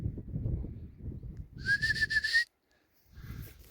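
A person whistles outdoors during a hare hunt in the Altai countryside, giving one bright, wavering whistle lasting under a second, with quieter rustling and movement around it.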